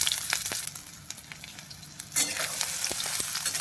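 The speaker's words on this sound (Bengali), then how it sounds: "এবার আমি সয়াবিনগুলোকে জল নিংড়ে নেবো, দিয়ে তেলে ভেজে নেব।" Soybean chunks, squeezed of water, fry in hot oil with a steady close sizzle and crackle that swells louder partway through.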